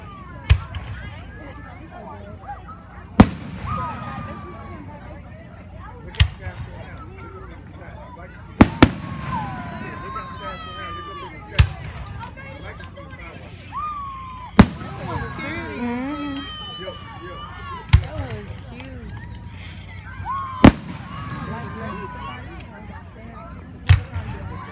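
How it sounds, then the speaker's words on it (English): Distant fireworks pop and bang at scattered intervals, with whistling crackles rising between them, while people talk faintly in the background. "Too old to be looking at fireworks."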